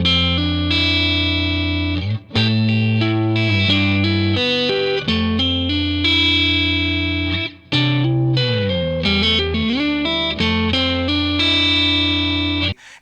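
Clean electric guitar tone played through the Archetype amp-sim plugin with reverb and no delay, sustained chords and melodic notes ringing loudly and continuously, with a lush reverb tail and no voices.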